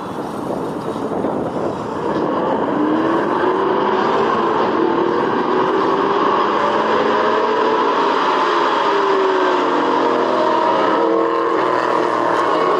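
A pack of race cars roars away at a race start, engines blending into a loud sustained drone with pitches climbing as they accelerate past, no voices.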